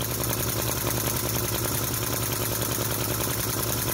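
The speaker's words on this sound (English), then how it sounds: "I love vacuum engines, they have a great sound" A small model V-twin vacuum flame-licker engine fitted with PC heatsinks runs steadily and close, giving a continuous, even mechanical hum with fine rapid pulsing and no breaks.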